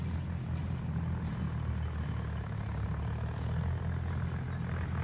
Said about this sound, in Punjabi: ਉਹ ਦੂਜਾ ਟਰੈਕਟਰ ਆ ਉਹ ਸਾਹਮਣੇ ਚੱਲਦਾ